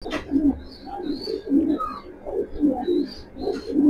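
Racing pigeons, a lively mated pair of club runners, coo repeatedly in low rolling phrases close by, with occasional faint chirps from other birds behind them.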